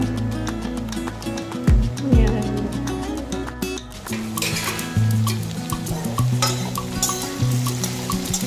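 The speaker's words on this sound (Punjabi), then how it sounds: "ਚਾਰ ਤੋਂ 5 ਮਿੰਟ ਤੱਕ ਆਪਾਂ ਨੇ ਇਸ ਤਰ੍ਹਾਂ ਭਿੰਡੀਆਂ ਨੂੰ ਤੇਲ ਦੇ ਵਿੱਚ ਫਰਾਈ ਕਰ ਲਿਆ ਹੈ" Okra (bhindi) frying in hot oil in a pan, a steady close sizzle with repeated scraping stirs and utensil clatter against the pan.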